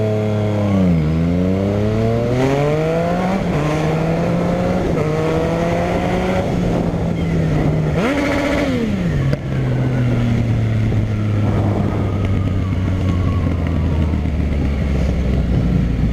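A car engine revs repeatedly through an Escape Dogster aftermarket exhaust, tested with and without a DB killer silencer, loud and close, rising and falling in long sweeps before settling into a steady drone.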